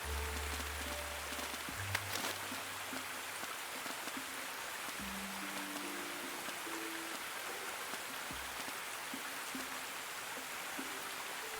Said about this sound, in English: on a rainy day like today